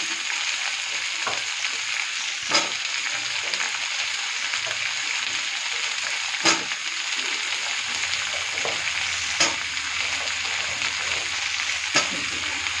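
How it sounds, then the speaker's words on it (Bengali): Pumpkin and eggplant pieces fry in oil in a pan, giving a steady close crackling sizzle throughout with a few sharper spatters and stirring clinks, and no talking. "এই সমস্ত সবজিগুলো এবার ভালো মতো ভাজা হবে।"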